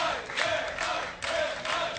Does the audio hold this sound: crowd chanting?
yes